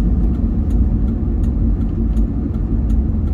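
A car drives along a gravel road, giving a continuous, loud low rumble of engine and tyres with faint scattered crunching over the top and no speech.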